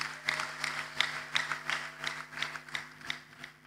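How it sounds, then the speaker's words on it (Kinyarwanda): A church congregation at a baptism service claps in a steady rhythm, sharp hand claps recurring about twice a second over a low electrical hum, moderately close. "Twongere dukomere Yesu amashyi cyane."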